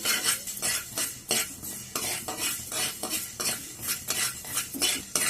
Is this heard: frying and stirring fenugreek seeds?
yes